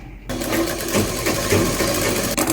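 A sewing machine runs steadily as it stitches the shoulder seam of a lined kurta, with a half-inch seam allowance, starting abruptly and humming evenly close up before a brief pause near the end.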